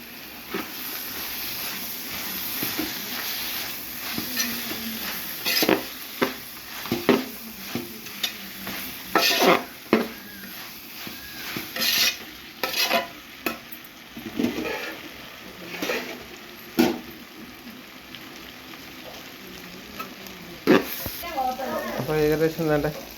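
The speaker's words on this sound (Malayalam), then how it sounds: "തക്കാളി ഇടുന്നുണ്ട് കേട്ടോ അതിനകത്ത്." Tomatoes are stirred and sautéed in a pan, with a continuous sizzle broken by repeated scraping strokes of a spoon at an irregular pace. A voice is heard briefly near the end.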